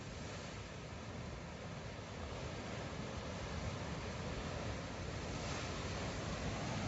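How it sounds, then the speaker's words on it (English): A steady, broad rush of a waterfall, Inglis Falls in spring, roars continuously, fairly distant and unchanging, with no voices. "That's just a little bit of water coming down."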